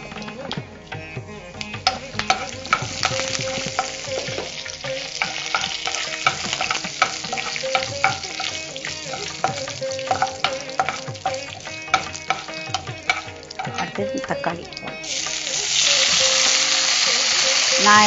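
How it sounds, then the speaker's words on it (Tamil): Mustard seeds and curry leaves fry in hot oil, loud crackling and popping with spatters and stirring clatter, swelling into a denser hiss near the end. "இப்போ கடுகு போடுறோம்."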